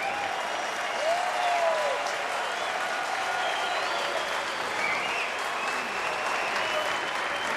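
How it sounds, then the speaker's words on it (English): Fans at a Reds versus Marlins baseball game applaud as batter Jr. steps up, a sustained wash of stadium clapping and crowd noise with faint cheers rising and falling throughout. "he'll get another rounding applause as he comes up"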